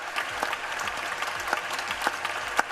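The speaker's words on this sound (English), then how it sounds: "Are they clapping because they think he's broke the record now?" Audience clapping in the Senate during a record-length filibuster: scattered, uneven claps from a small group, with distinct individual hand strikes standing out over a soft background.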